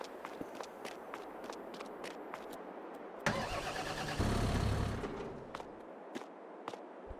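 A 270 horsepower tractor engine starts up in Farming Simulator 22, a short burst of cranking followed by a louder rumbling idle that fades, with soft footstep-like taps before and after.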